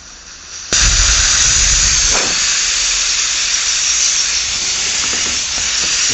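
A Snowpeak M25 5.5 air rifle depressurizes as a screw is loosened, a sudden loud, steady rush of escaping air that starts abruptly and holds constant for several seconds.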